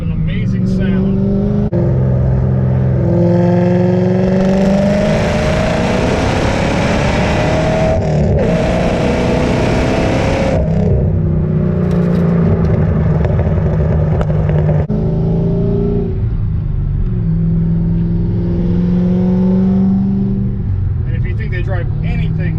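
A 2006 Saleen Extreme Mustang's engine revs and pulls through gear changes during a test drive, a loud, throaty in-car drone rising and dropping for over twenty seconds under occasional talk.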